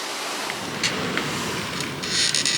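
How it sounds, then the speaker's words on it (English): Sea waves crash on the coast at La Seratella and Moncofa, a steady rushing surf hiss with slight swells toward the end, heard alone and fairly faint. "You might be able to hear the sea waves crashing in the background."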